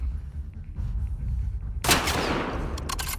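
A single loud, sharp gunshot bursts out with a rumbling tail in The Last of Us Part II, after a low ambient game rumble and followed by a couple of faint clicks.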